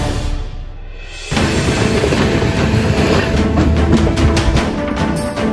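Indian express train on the Kolkata to Chennai run, a Tiruchirappalli superfast express, rumbling loudly from inside the carriage with a steady clickety-clack and broad roar that begins after a brief quieter moment.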